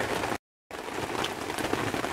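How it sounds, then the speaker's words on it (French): Steady rain falls outdoors beside a small wood-burning Ikea camp stove, a close, continuous hiss of drops on surfaces with no voices, briefly cut out by a short gap of silence. "J'espère que la pluie ne vous empêche pas de m'entendre."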